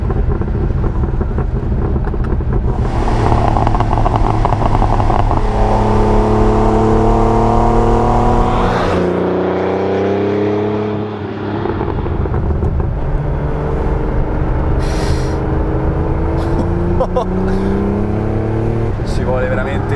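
Porsche 911 Turbo 3.3 (930) engine revving through open windows from inside the car, loud rising and falling engine notes across several gear pulls, with a dip between pulls and wind rush throughout.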